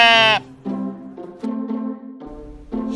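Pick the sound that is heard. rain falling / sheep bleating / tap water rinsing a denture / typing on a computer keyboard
sheep bleating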